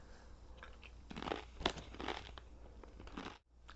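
Close, loud crunching as crunchy chips from Taiwan are bitten and chewed, with several crisp cracks and grinding bursts over a few seconds, and no voice.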